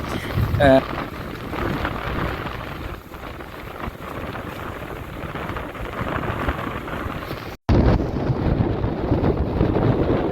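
A storm in Jaffna sends heavy rain and strong wind roaring against the microphone in a steady, loud wash with gusty buffeting, broken by a brief dropout near the end, while voices talk faintly underneath.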